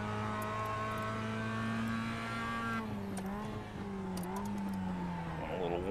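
Engine of a Mazda MX5 Cup race car in iRacing at Tsukuba Circuit, a steady harmonic drone whose pitch dips and then climbs again as the throttle comes back on, with light clicks over it.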